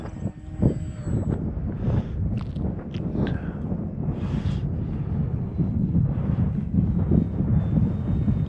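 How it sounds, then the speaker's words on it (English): Strong wind gusts buffeting a camera's internal microphone outdoors at an RC airplane runway, a continuous loud low rumble and roar that swells and surges throughout, with no talk. "it's almost starting to get windy. I'm sure you can hear it on the microphone."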